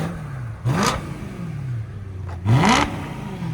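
A 2011 BMW M3 with a 4.0L V8 and resonator-delete exhaust idles, then blips twice in quick, sharp revs that rise and fall, loud and close, with the idle burble continuing between them.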